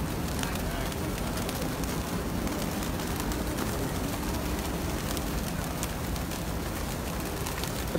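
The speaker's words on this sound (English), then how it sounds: "There's like a million pigeons." A huge flock of pigeons crowds around a woman in Barcelona, their cooing and fluttering blending into a dense, continuous outdoor wash of sound, with a person speaking faintly beneath.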